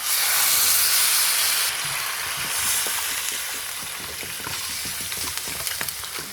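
Chopped ingredients frying in a pan before water goes in, a loud steady hissing sizzle that eases slightly, with scattered stirring clicks, no speech.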